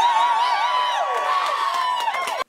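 A rowdy crowd of exhausted political supporters cheers and whoops loudly and continuously, with shrill whistles and shouts, before it cuts off abruptly.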